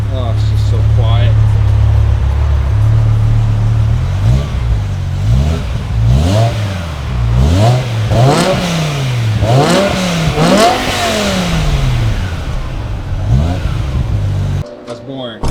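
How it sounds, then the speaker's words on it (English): Stock V10 engine of a BMW M5 E60 revving on the stock exhaust, opening with a steady idle and then rising into a series of repeated sweeping revs, loud and close, with people talking over it. "This is the last time that we'll hear the stock E60 M."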